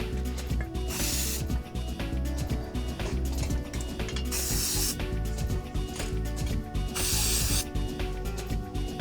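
Bursts of hissing spray as a rough bed liner coating is sprayed onto a truck bed, in several separate passes over a steady mechanical rattle and scraping, fairly close.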